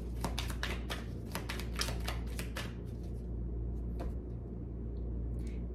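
Rapid crisp riffling of tarot cards being shuffled in a burst, followed by a few scattered taps and flicks over a steady low hum.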